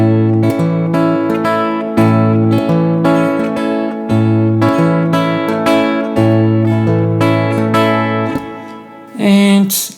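A piano plays a 4 against 3 polyrhythm, three even notes in the low part against four in the upper part, repeated in a steady cycle of sustained tones, followed by a brief louder burst at the end.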